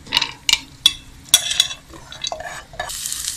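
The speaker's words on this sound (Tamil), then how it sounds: "இதை நம்ம நெய்யில் வறுத்துக்கலாம்." Chana dal is stirred and roasted in ghee in a pan: a series of sharp spoon scrapes and clinks against the metal, over a soft sizzle, close up with no talk.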